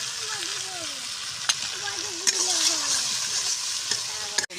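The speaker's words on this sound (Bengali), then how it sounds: "মশলাটা কষা হয়ে গেছে, তেল ছেড়ে দিয়েছে।" A spice paste of green chillies, ginger, garlic, turmeric and cashew-raisin paste fries in oil with a steady sizzle, broken by a few sharp clicks of stirring.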